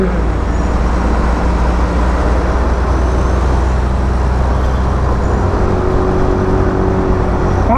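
A car engine hums steadily in traffic, a constant low drone with road noise that stays fairly loud and even throughout, no talking heard.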